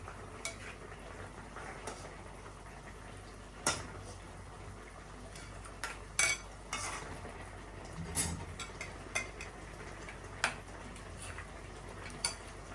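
Mustard paste stirred into a simmering fish curry with pointed gourd in a pot: faint, sparse clinks of a utensil against the pot over soft bubbling.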